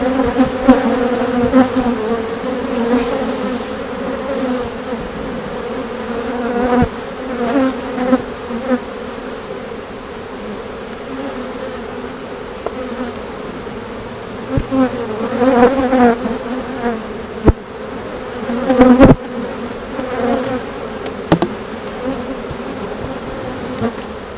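Honeybees swarming around an open, queenless beehive during an inspection, a steady, close, loud droning buzz that swells and fades as bees fly past, with occasional clicks of handling.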